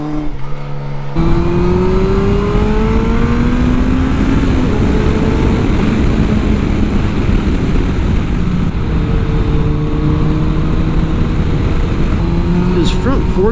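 Yamaha FJR1300 sport touring motorcycle being ridden, its engine droning steadily close up with rising and falling pitch as it accelerates and shifts, wind rush mixed in throughout.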